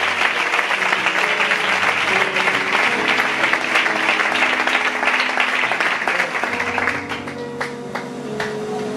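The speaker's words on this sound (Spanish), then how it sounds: "Dale fuerte este aplauso para Dios" A church congregation claps loudly and steadily for several seconds, and the applause thins toward the end while music or voices carry on underneath.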